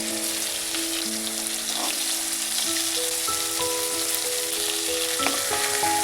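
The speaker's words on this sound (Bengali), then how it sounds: "চাকাগুলোও ভেজে নিচ্ছি" Hilsa fish pieces frying in hot oil in a pan, a close, steady sizzle and crackle that runs throughout with occasional stirring sounds and no voices.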